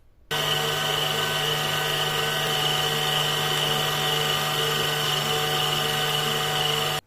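An electric mixer whirs steadily at one speed, beating eggs into a creamed butter and sugar mixture. The motor starts abruptly, runs at a constant loud whine for several seconds and then cuts off.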